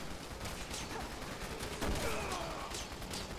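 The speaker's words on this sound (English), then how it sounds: "Oh shit, they're shooting me." Zombies fire guns at the player in Resident Evil 6, a steady crackle of gunfire over a dense game soundscape, with one heavier shot landing near the middle.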